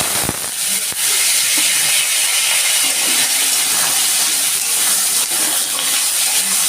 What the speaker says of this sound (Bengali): আমি প্রথমে আলুটা একটু ভেজে নেবো লাল লাল করে আমি দিয়ে দিচ্ছি আলু